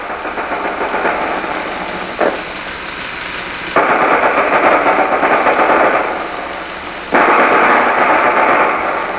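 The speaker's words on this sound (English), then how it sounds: "The 2nd Platoon, attacking on the right flank, is suddenly taken under enemy small arms fire." Enemy small arms fire in a vintage US Army film about a rifle platoon's night attack comes as sustained, dense rattling bursts of gunfire that stop and start in long loud stretches, with no speech.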